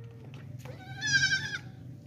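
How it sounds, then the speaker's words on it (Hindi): A large goat with drooping neck wattles bleats once, a loud wavering cry near the microphone over steady low background hum, at a livestock market selling goats for sacrifice. "ये बकरी है"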